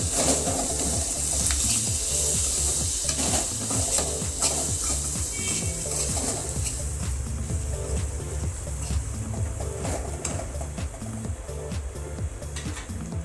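Spices being stirred into arbi (taro) sabzi in a pan, a continuous close sizzle with repeated scraping and stirring strokes throughout, steady and fairly loud with no talk.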